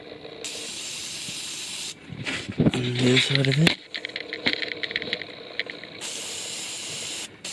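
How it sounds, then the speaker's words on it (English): Steady WD-40 aerosol spray hissing in long bursts on car suspension bolts, close by, with a brief stretch of talk and clanking in between. "spray everything down with a bit of WD-40"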